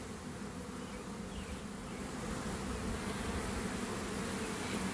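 A swarm of honey bees carrying nine mated queens fills the air with a dense, continuous buzzing hum. The drone stays close and steady, growing slightly louder toward the end, with no voices.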